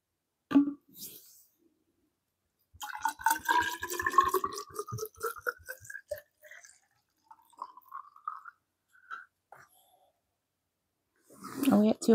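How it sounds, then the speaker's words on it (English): Homemade grape juice wine being poured out of its container, giving a few short gurgling, glugging bursts and drips separated by quiet pauses, close and moderately loud. "This time I'm just going to pour it out."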